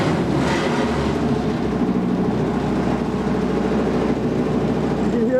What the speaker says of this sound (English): You can hear the diaphragm pump kick on